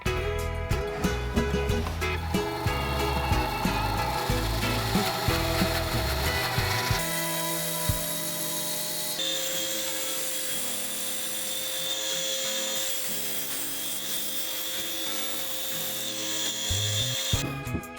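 A bandsaw cuts wood, heard as a loud, steady blade whine with shifting tone as the cut changes, continuing alone for the whole stretch.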